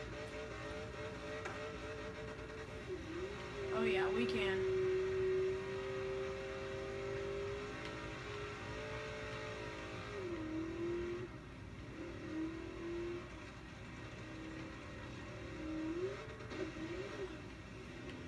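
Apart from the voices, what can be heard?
car reversing up a mountain in video game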